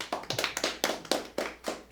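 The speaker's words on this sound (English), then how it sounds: "So clap if you think that person was Alaina BAMFIELD" A roast battle audience in a New York comedy club claps for a contestant, a sparse handful of separate claps in an uneven rhythm, close and fairly light with no voices over them.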